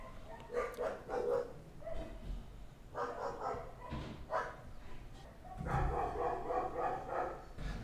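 Several dogs bark in repeated bursts close by, with short yips and pauses between volleys, fairly loud against a quiet background.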